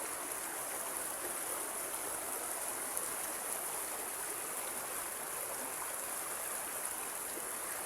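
Steady rushing of flowing river water, broadband and continuous, close by with no pauses or voices.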